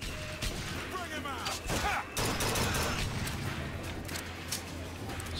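Gunfire in BioShock Infinite, a few sharp bursts and impacts among game action and effects, with a player's voice talking over parts of it.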